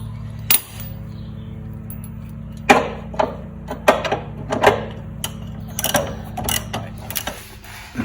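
A socket ratchet tightens a bolt during a Coyote engine swap into an SN95 Mustang, giving irregular bursts of clicking and metallic clatter over a low steady hum in a garage.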